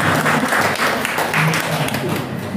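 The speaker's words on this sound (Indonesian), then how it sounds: "Ya, tepuk tangan." Audience applause at a church parish gathering during a talk show on St. Peregrinus, steady dense clapping throughout with some murmuring voices mixed in.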